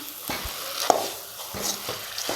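Milk bread halwa is stirred in ghee in a pan, a soft sizzle broken by several distinct scraping strokes and one sharp clink of a utensil.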